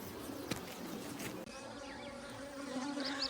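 Honey bees buzzing densely around hives at a beekeeping operation, a steady close drone of many insects with individual bees passing near, no talking.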